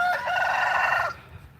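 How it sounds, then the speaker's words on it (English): A rooster in a backyard garden flock of chickens lets out one loud, close crow lasting about a second, followed by quieter farmyard ambience. "The chickens are following me."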